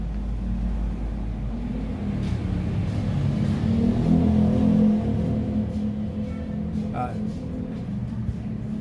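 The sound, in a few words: Toyota Fortuner 2GD diesel engine running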